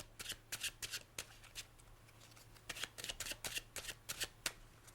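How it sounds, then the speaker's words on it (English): An overhand Hunter shuffle of a playing card deck: close, crisp bursts of card riffling in uneven clusters, with a faint low hum underneath and no speech. "Here's how the shuffle looks."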